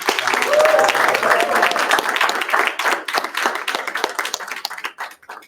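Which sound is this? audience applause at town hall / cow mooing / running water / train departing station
audience applause at town hall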